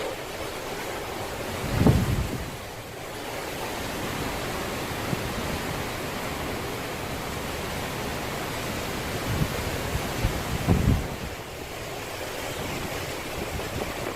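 Strong gusty wind ahead of a hurricane roars steadily outdoors, a broad rushing noise with a couple of harder buffets hitting the microphone, no voices.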